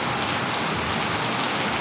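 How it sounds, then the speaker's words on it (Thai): Heavy, dense rain pouring down at night in a constant loud wash, with no pauses and no voices. "ฝนตกยามค่ำคืนนะครับ"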